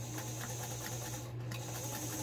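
A White 764 sewing machine stitching steadily, a continuous close mechanical whir and rapid needle rhythm at low level, with no talk.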